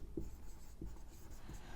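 Chalk or marker taps and strokes on a classroom board during a lecture, three short, quiet marks spaced about half a second apart, heard alone at close range.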